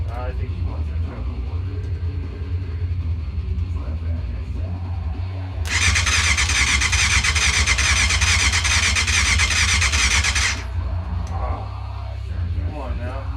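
A Yamaha FZR600 motorcycle that sat unused for over fifteen years, cranking on its starter without catching: a buzzy whirring grind lasting about five seconds over a low background hum, then stopping.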